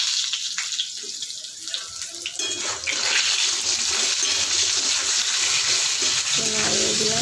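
Ingredients for a bitter gourd curry frying in a pan, a steady loud sizzle that swells after a few seconds, with occasional clinks and scraping of stirring and a brief watery patch near the end.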